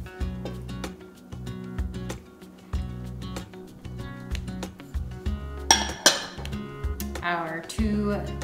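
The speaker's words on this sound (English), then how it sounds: "I'm gonna blend those two together just to make sure I'm getting all the clumps of egg yolks out" A utensil whisks egg yolks in a bowl, producing quick, regular metallic clinks against the dish under soft background music.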